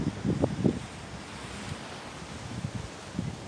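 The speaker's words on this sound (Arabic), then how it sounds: "الجو قالب هوا" Strong outdoor wind buffets the microphone in gusty rumbling bursts, loudest at the start and again near the end, with a steady rushing roar between and no talking.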